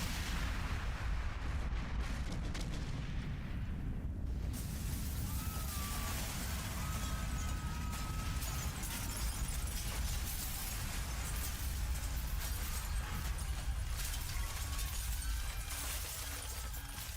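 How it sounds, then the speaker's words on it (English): A large explosion in a science dome rings out in a sci-fi drama, a loud broadband blast with deep rumbling that rolls on for many seconds amid crackling debris and alarm-like tones. "There's been a large explosion in the Science Dome, Supremo."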